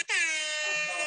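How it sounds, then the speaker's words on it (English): A single loud, sustained air horn blast, bright and brassy, holding steady for about a second. "I'm going to play a rap air horn."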